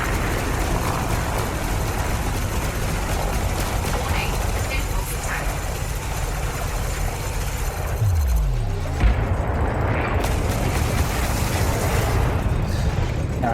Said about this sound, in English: The ship's currently loaded out with 2 small and 1 medium autocannon, and 2 small and 1 medium pulse laser, and I tend to fire them all at once.